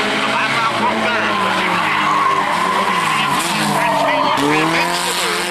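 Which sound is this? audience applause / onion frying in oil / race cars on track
race cars on track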